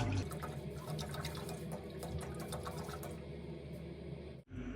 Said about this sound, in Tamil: இப்போ நாங்கள் இந்த பாலையை வந்து நாங்கள் ஊற்றிட்டோம்